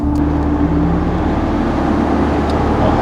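A 2022 Mercedes E-Class cruises at the speed limit along country roads among vineyards, producing a steady, loud cabin drone of engine and road noise with no breaks.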